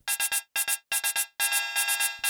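Synthesized hi-hat built in Bitwig Grid with a noise layer given extra attack, playing bright, crisp hits in quick groups of three and two, then a denser run of overlapping strikes, alone with no talking.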